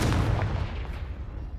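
A Confringo fire spell explodes in the video game Hogwarts Legacy, a single heavy boom with a rumbling tail that fades over a second, loud and alone.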